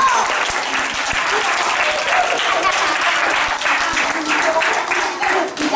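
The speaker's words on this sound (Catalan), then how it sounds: "Un aplaudiment." Steady applause from a school audience at a Sant Jordi competition, dense clapping sustained at even loudness throughout with some crowd noise mixed in.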